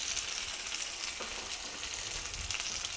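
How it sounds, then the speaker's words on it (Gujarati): Steamed vegetable muthiya hit a hot sesame and curry-leaf tempering, giving a steady, close sizzle and crackle of frying. "આપણો વઘાર એકદમ સરસ તૈયાર થઈ ગયો છે તો સ્ટીમ કરેલા મુઠિયા ઉમેરી દેશું"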